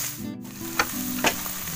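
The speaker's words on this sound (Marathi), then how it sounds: "आता कांदा आणि सगळं लाल झाल्यानंतर टॅमॅटो टाकूया." Chopped tomato being sautéed in hot oil with browned onion and garlic in a home kitchen, giving a steady close sizzle with a couple of brief stirring scrapes and no talking.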